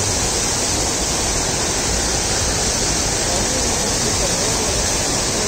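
Loud, steady roar of the waterfall at Sahastradhara, a dense broadband rush of falling water that stays constant and close for the whole stretch, with no voices.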